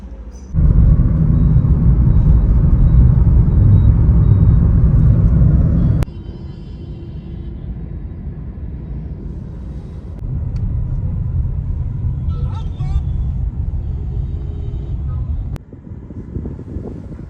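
Car engine heard from inside a parked car while waiting, a loud low rumble that drops to a quieter idle hum partway through, with a few faint clicks and shifts in level.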